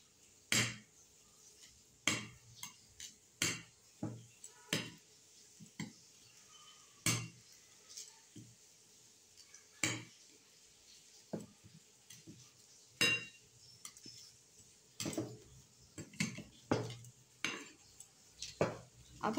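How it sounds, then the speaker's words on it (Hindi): Chillies being mashed with a masher in a bowl, heard as a series of irregular close clinks and taps of metal against the dish, spaced about a second apart with quiet gaps between them. "तो स्टार्ट करते हैं चिली से। एक्चुअली ट्रेडिशनल वे में हम लोग हाथ से इसको मैश करते हैं या फिर एक ग्लास से, पर मैं मैशर यूज़ कर रही हूँ यहाँ पे।"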